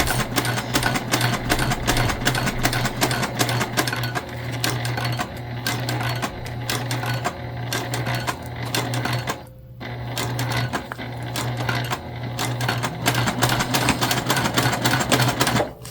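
Sewing machine back stitching through upcycled jeans fabric, a steady loud mechanical whir and rapid needle clatter running almost continuously, with a brief pause midway before it resumes.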